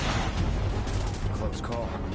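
Gunfire in the video game Final Fantasy VII Remake rumbles as a dense, continuous barrage of booming shots mixed with a low roar, loud throughout with voices calling out beneath it.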